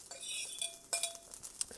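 Hash browns sizzle in a pan with a soft, steady high hiss, broken by a few light clinks of a utensil against the pan over a couple of seconds.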